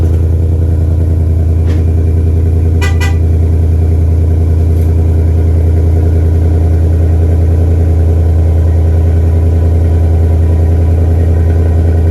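A Batmobile car's engine running very loud and close, a heavy, steady droning rumble throughout with a couple of brief clicks partway through, and no voices.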